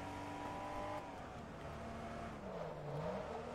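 Porsche race car engines in Forza Motorsport 2, the Porsche 914/6 among them, droning steadily close by, with the engine note wavering and shifting in pitch as the cars rev and change gear.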